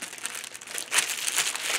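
Plastic packaging of a unicorn Simple Dimple fidget toy crinkles and crackles continuously up close, with a louder rustling surge partway through and no talking.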